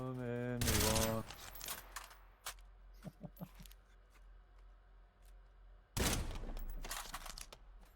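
Video game gunfire in a competitive match: a dense, loud burst at the start, then scattered fainter pops and clicks, and a second loud close volley near the end.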